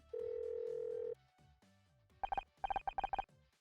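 Phone dialing in the video game Murder by Numbers: a steady dial tone for about a second, then a quick run of bright keypad beeps in short clusters, clean and close.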